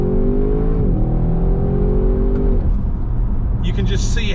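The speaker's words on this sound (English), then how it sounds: "You can just see how much that acceleration picks up. It is an absolute beast. And you have that beautiful V8 grunt as well" A 2020 Audi RS6 Avant V8 accelerates hard on a dual carriageway, its engine note rising steadily and shifting gear about a second in, then a strong rev climb; a loud, continuous cabin-heard roar, with talk over it.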